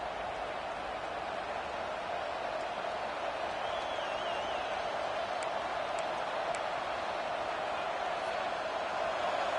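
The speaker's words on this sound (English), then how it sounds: "Listen to this crowd just shaking the girders of this place, trying to help their defense." A large stadium crowd roars steadily to back the defense during a football game, a dense, unbroken wall of noise that holds for the whole stretch with no clear speech on top.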